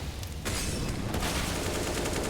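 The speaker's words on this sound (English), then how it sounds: "Oh, Tess says, good headshot" Gunfire in Counter-Strike: Global Offensive during a professional esports match on the Nuke map: a dense, continuous burst of rapid shots that stays loud and unbroken throughout.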